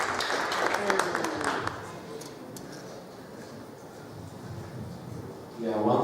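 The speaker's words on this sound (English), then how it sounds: "now let's hear your applause for Andrew and for Gianata" Audience applause for speakers at a Ruby programming conference's lightning talks, a short burst of clapping at the start that fades, followed by someone talking over room noise.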